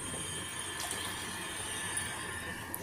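Water and mutton stock poured into a pan of bhuna mutton curry, a steady close, even rushing pour with a faint sizzle running the whole time and no voices.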